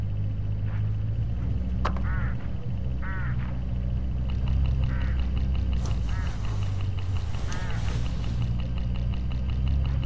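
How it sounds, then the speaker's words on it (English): Hooded crows in the video game Hitchhiker give a few short, harsh croaking calls along a road, heard over a steady low rumble of a moving vehicle. "Look, hooded crows all along this road."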